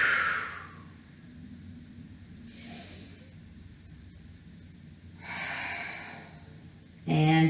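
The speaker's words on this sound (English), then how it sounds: "Exhale. Inhale. Exhale. Inhale. 2 more times." Deep breathing during a core workout, a few slow audible inhales and exhales separated by quiet pauses, close and soft.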